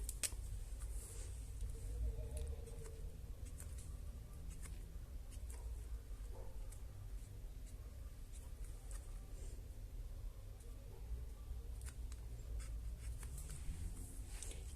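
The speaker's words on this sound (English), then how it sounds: "let's make some lines with the marker too." A marker squeaks and scratches across paper in short repeated strokes, drawing lines for a cat craft; the strokes are quiet, close and irregular, with no talking.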